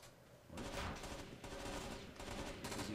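Sustained automatic gunfire from the Rainbow Six Vegas 2 video game rattles in dense bursts after a quiet start, fairly faint in the overall mix with no clear talk.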